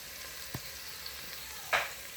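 Chopped onions and grated garlic fry in a pan for yellow vegetable rice, a quiet steady sizzle with a couple of brief stirring scrapes.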